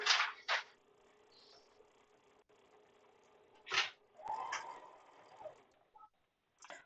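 A sewing machine works slowly through many thick seams, straining, in short mechanical bursts of whirring and clicking separated by quiet pauses.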